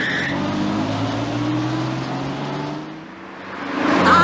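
Cartoon car speeding along, a loud steady engine drone that dips briefly and then surges back up near the end, with no one speaking.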